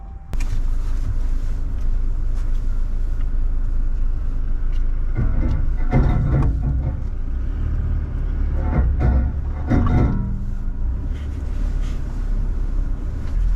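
A Toyota Hilux 2.4 GD6 automatic with its diesel engine labouring through sand dunes gives a constant loud rumble with wind buffeting, swelling in heavier surges midway.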